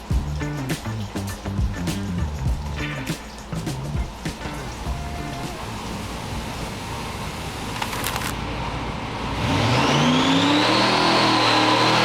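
A supercharged engine on a dyno pull with a larger bottom blower pulley, running race gas, roars and revs continuously under load, climbing in pitch toward a loud rising whine near the end; no talk.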